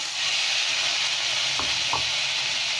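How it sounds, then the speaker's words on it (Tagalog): Meat hits a hot pan for a sauté with tomato already in it, giving a loud, dense, continuous sizzle throughout, broken by a couple of faint knocks. "Tapos ilalagay ko ngayon ang aking karne."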